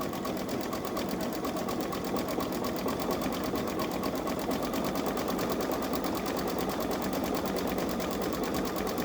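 A Babylock Solaris embroidery sewing machine stitches a design in a steady, fast, continuous whirring rhythm, close and moderately quiet throughout, with no talking.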